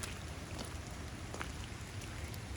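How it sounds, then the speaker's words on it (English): Steady rain falling outdoors in nature, a continuous soft hiss of drops across the whole stretch at low level, with a few slightly brighter patters but no voices or other sounds. "when it's raining"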